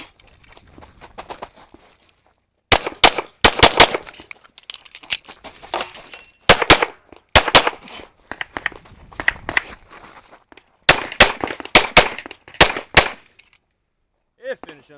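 Pistol shots ring out in rapid bursts during a practical shooting match stage, loud sharp cracks in quick strings separated by short pauses, with a brief voice at the very end.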